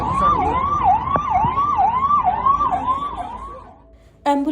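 An ambulance siren wails in a steady rising-and-falling cycle, loud and close, for about four seconds before cutting off into a different tone. No one speaks over it.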